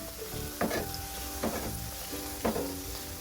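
Panikoorka bajji batter frying in hot oil as an evening snack: steady close sizzle with three brief louder bursts of bubbling spaced across the clip.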